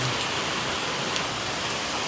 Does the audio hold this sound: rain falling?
yes